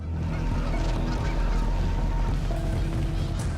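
Gannet seabirds call in a colony, a dense overlapping chorus of harsh honking cries over steady low surf and wind, loud and continuous throughout.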